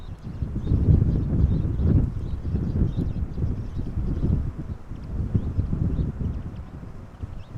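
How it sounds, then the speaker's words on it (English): Gusty wind blowing across the microphone at an outdoor plane spotting spot beside an airport, a continuous low rumbling buffet that swells and eases throughout, with no voices. "I think the wind is picking up a little bit"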